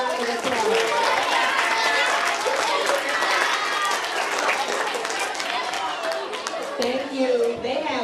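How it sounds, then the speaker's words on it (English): Audience applause and cheering for three judges at a school poetry slam, a dense continuous wash of claps with crowd voices mixed in throughout, filling the room at steady loudness. "Can we give them a round of applause?"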